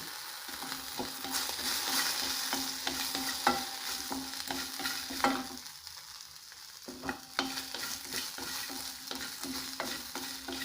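Garlic, green chillies and onion frying in a pan for masala puri, a steady close sizzle broken by repeated scraping and stirring strokes, with no talking.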